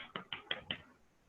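Students in an online class clap over their microphones: five quick, faint, evenly spaced claps, then silence.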